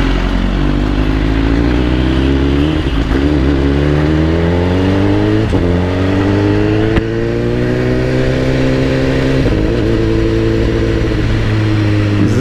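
A Kawasaki Ninja ZX14R sport-touring motorcycle accelerates on a night ride, its engine loud and near, rising through several gear changes with brief dips between pulls, with no voices.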